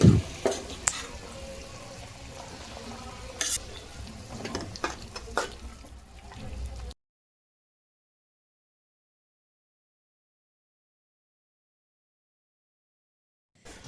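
Boiled gongura leaves are stirred into a simmering goat tripe curry, a close sizzle with scraping spoon strokes and a few knocks for about seven seconds before the sound cuts to silence.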